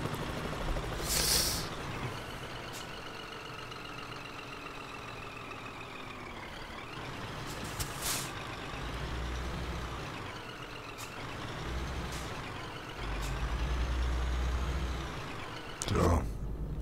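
A Scania truck in a driving video game rumbles along steadily, broken by several sharp bursts of air-brake hiss near the start, middle and end.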